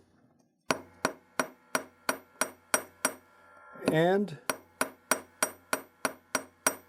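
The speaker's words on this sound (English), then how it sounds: "I take my chasing hammer" A chasing hammer strikes metal wire in a steady, even rhythm, flattening a hook and eye clasp, about fifteen sharp ringing taps with a brief pause midway where a voice speaks.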